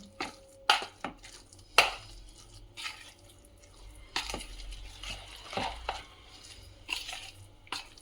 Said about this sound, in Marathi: थोडं मीठ टाकून घ्यायचं आणि परत हलवायचं.